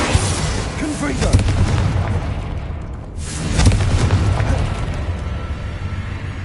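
A Confringo blasting spell in the video game Hogwarts Legacy erupts in heavy booming blasts, one at the start and another a few seconds later, over dense, continuous game noise.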